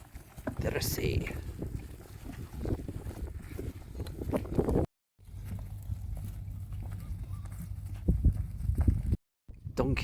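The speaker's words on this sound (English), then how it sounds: "Donkeys on the return." Donkeys walk back from gathering corn at a Moroccan harvest, their hooves clip-clopping steadily outdoors amid wind buffeting the microphone, with people talking over it and brief dropouts.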